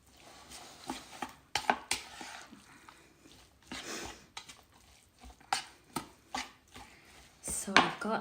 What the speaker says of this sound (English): I'll use this to mix the onion, carrots, and zucchini